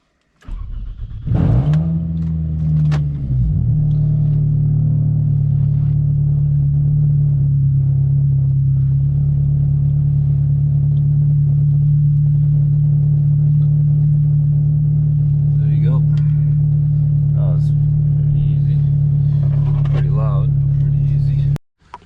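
Straight-piped Toyota Camry cranking and firing up on a cold morning, a sharp start followed by a loud, deep, steady idle drone that holds close by while it goes into reverse, with faint voices late on.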